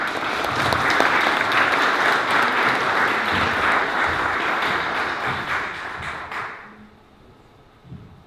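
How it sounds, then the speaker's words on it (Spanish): An audience at a book launch gives a musician a warm round of steady applause for about six seconds, then it quickly dies down to near silence with a few stray taps. "fuerte aplauso para Mauricio"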